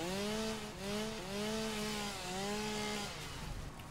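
A chainsaw cuts in the video game Satisfactory, droning loud and steady with repeated rising and falling pitch sweeps as it bites, and no one talks.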